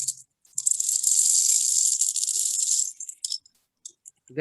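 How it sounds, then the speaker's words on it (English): Coffee beans pour into a crystalline mortar in a bright, gritty rattling cascade lasting a few seconds, then trail off into a few scattered clinks. "The sound you hear is coffee beans"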